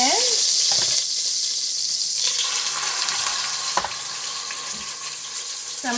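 Pork chop searing in a hot frying pan, a steady broadband sizzle throughout with a few brief clatters of handling near the pan, close and fairly loud.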